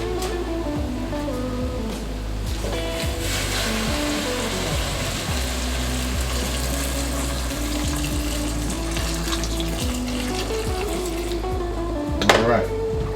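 Steady water pours into a pot for several seconds while making Hamburger Helper chili mac, a constant splashing rush with a brief clink near the end.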